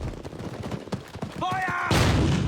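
Gunfire in a World War II battle scene at Foy, with rapid overlapping shots and thuds under shouted commands, followed by a loud, sustained burst of noise.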